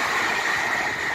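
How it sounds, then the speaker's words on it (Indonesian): A steady, broadband rumble with a constant hiss, like a train rolling past nearby, continuous and fairly loud throughout. "kereta api"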